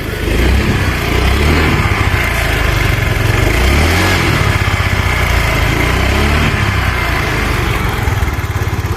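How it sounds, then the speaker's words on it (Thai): A 2007 Honda Click scooter idles close by, its small engine giving a steady, even chugging hum at constant loudness throughout, with no voices over it. "เรามาฟังเสียงเครื่องนะครับ"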